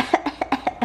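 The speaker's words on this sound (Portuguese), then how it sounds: "Ela tá com um pouco de tosse." A short burst of about six quick, dry coughs from a female with a mild cough, in a rapid rhythm, close and fairly loud.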